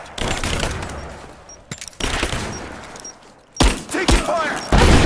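Heavy video-game gunfire from Rise of the Tomb Raider rolls in dense bursts, loud and close, with short pauses between volleys and a sharp burst of fire at the end.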